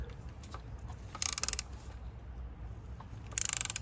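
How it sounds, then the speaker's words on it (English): A torque wrench clicks through two quick ratcheting bursts while tightening a spark plug on a BMW, with faint rustling between the bursts. "setting your torque wrench to 25 Newton meters"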